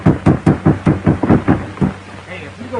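Rapid, loud knocking on a door in a 1936 film, around nine quick heavy blows in a steady run, then quiet with faint talk at the end.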